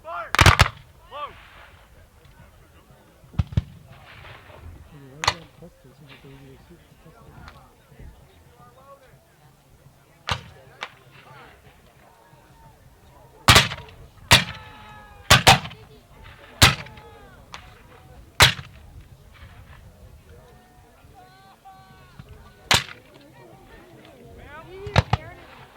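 Musket volleys at a Civil War reenactment battle, fired by company on command: several sharp, loud outdoor cracks spaced across the scene, some in tight clusters, with shouted commands and talk between them.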